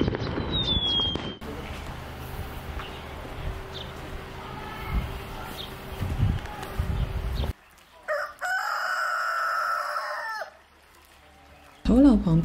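Among village poultry kept beside tulou earth buildings in Zhangzhou, Fujian, a rooster lets out a drawn-out crow after a stretch of busy, noisy background, with a short sharper call at the very end.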